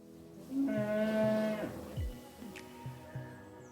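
A cow on a dairy farm lets out a long, drawn-out moo, followed by quieter low lowing and a few soft thumps, heard fairly close in a calm setting.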